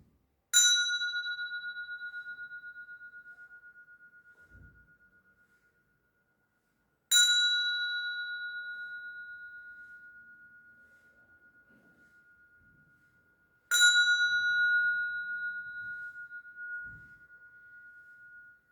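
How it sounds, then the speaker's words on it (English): Three clear bell strikes, each ringing out with a long, slowly fading tone, spaced several seconds apart in an otherwise quiet room. "I'm going to ring a bell"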